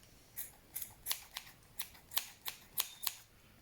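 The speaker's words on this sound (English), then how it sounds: "and trim off all the little tails and ends" Scissors snip repeatedly while trimming loose yarn tails from a shaggy pom pom, about a dozen crisp, close snips in an uneven rhythm with no talking.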